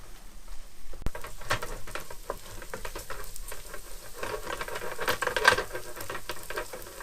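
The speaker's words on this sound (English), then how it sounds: "mince, straight in the pan, and I'm going to brown it" Minced meat browning in a pan for bolognese, a steady close crackling sizzle with pattering spits and occasional stirring, with no talk.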